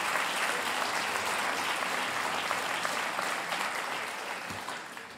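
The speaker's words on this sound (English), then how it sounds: "they deserve this applause" Steady applause from a large crowd, dense clapping throughout that fades slightly toward the end.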